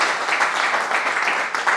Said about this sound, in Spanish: Un fuertísimo aplauso también.